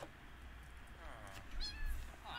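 Several cats meow softly in Minecraft, with short rising and falling calls near the middle and end over a faint background murmur.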